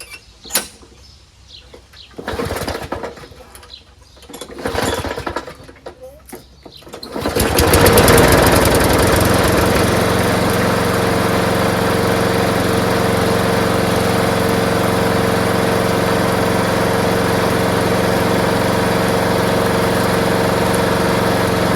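A Craftsman 21-inch push lawnmower with a 6.5HP Briggs Quantum engine sputters through a few pull-start attempts, then catches and runs at a steady, loud, even drone close by.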